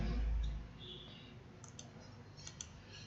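A computer mouse clicks a few times during spreadsheet work, with faint, sharp double-clicks spaced apart over a quiet low hum and no talking.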